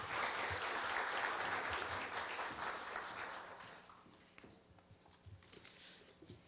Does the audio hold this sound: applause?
yes